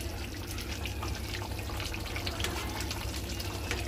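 Water poured into a cooking pot for greens runs as a steady, close splashing stream that holds evenly throughout without pause.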